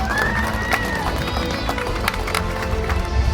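Audience applauding as a sports academy coach is called up at a stage event, clapping steady and close, with voices and crowd noise mixed in throughout the short stretch.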